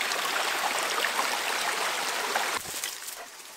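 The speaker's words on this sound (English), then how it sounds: "There's a little creek somewhere down there." A small creek flows steadily outdoors, a close, continuous rushing and trickling of water that stays loud throughout and dips slightly near the end.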